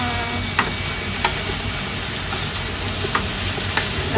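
Onion and garlic sauté in a hot pan for kare-kare, giving a steady close sizzle broken by a few light clinks of a spoon stirring, with no talk.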